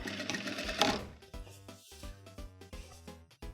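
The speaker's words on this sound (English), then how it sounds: "we'll sew forward a little bit and back just to tack that area" A sewing machine stitches a short run forward and then back to tack a pant leg being tapered narrower, giving close, quick mechanical whirring bursts with brief pauses between them.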